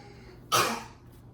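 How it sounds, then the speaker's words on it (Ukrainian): A single sharp cough bursts out close by, loud and brief, then trails off into quiet room noise. "це він спеціально кашляє."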